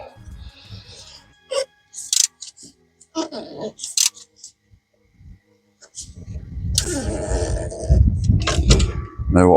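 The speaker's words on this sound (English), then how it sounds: "I'll just use this little ratchet spanner, it's a bit easier" Ratchet spanner with a socket turning a fastener on a Jeep SRT V8 during serpentine belt and tensioner pulley work: scattered short clicks and ratcheting bursts, close up, with a denser stretch of mechanical noise near the end.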